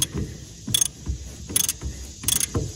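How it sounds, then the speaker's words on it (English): A 1 1/8 inch socket on a ratchet loosens the hydraulic filter cover on a Gravely Pro-Turn 200 mower, making three quick, loud bursts of ratcheting clicks with shorter knocks and clunks between them, close up. "We're finna take our 1 1/8" socket and remove that"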